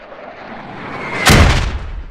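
A mortar shell lands in the modded video game Squad, a single heavy boom bursting loudly after a brief quiet lead-in, then rumbling away over about a second.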